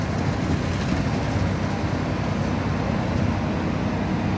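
Interior of a moving shuttle bus, a steady low rumbling road drone with engine hum and faint rattles, continuous and close, with no talk.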